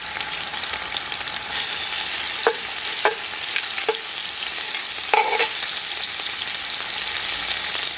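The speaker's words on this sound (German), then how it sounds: "nun braten wir portionsweise unser Gulasch an." Goulash meat sizzles steadily in hot fat, fried in batches, a constant loud crackle with a few sharp clicks and knocks from stirring.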